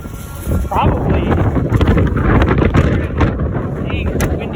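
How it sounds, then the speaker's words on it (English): Strong gusts buffet a microphone outdoors beside a 2002 Ford Mustang at a fuel stop, a loud, rumbling low roar that surges and drops unevenly, with a voice speaking over part of it. "Dang, it's windy."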